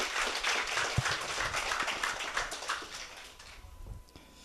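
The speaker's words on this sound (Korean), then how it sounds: "다시 한번 큰 박수 부탁드립니다." Crowd applause at a youth talk concert in a school setting welcoming a vice principal to the stage, dense clapping that fades toward the end, with a few louder individual claps.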